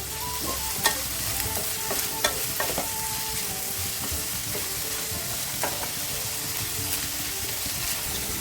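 Three chopped onions sizzle steadily in hot coconut oil while a spoon stirs them, adding sharp scraping clicks at irregular intervals over the constant frying hiss, heard up close with no talk.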